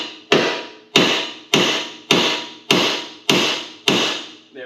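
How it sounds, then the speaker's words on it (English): A hammer strikes a car's steering knuckle seven times in an even rhythm, each blow a loud, sharp metallic bang that rings out briefly before the next. "we're going to go ahead and strike the knuckle with a hammer"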